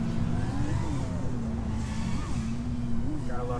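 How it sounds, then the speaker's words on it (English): Motorcycles revving outdoors, with engine notes rising and falling in pitch over a steady low drone, fairly loud, and a rising rev near the end. "Of course, we got the motorcycles out today."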